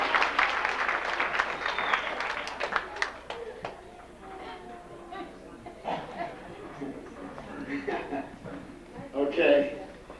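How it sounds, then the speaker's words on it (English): An audience at a talent show applauds, a dense burst of clapping that thins into scattered claps and crowd murmur, with people talking and chuckling over it and a louder swell near the end. "He got clapped, he got applause."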